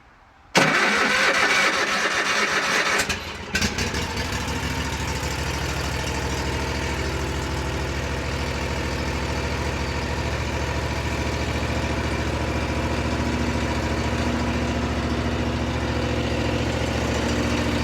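A lawn mower engine with freshly replaced spark plugs, started without choke, cranks briefly, then catches. It falters once before settling into a loud, steady, close running drone that fills the rest of the clip.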